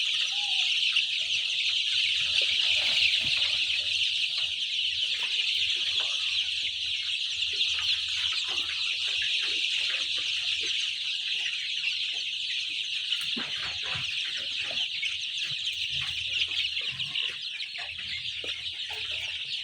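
A crowded flock of Sonali hybrid chicks keeps up a dense, nonstop chorus of high cheeping and peeping, close and steady with no pauses.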